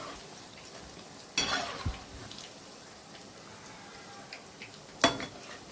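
Sweet corn pakoda frying in hot oil gives a steady, soft sizzle, broken by two sharp clattering bursts as the pieces are turned.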